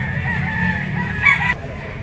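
A young rooster (stag) at a pet market crows once, fairly loud and close, over a busy background murmur.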